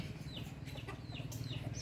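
Chickens cluck and call at an animal shelter that houses stray fowl alongside disabled dogs, a steady flock chatter with brief higher squawks over a constant low hum.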